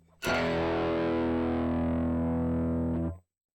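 A single distorted electric guitar chord through a Joyo British Sound overdrive pedal rings out loud and sustained for about three seconds, then cuts off abruptly.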